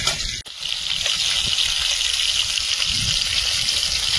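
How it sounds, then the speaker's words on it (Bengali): Water sprinkled over spiced okra, heard as a continuous close rush of pouring, splashing water that runs steadily for a few seconds and then stops abruptly. "সামান্য একটু জল ছড়িয়ে দেবো, তাহলে মশলাটা ভেন্ডির ভিতরে ঢুকবে।"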